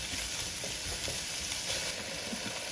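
Potatoes, carrots and scallion sizzle in a hot pan with a steady, soft hiss, quiet and continuous, and no one speaks.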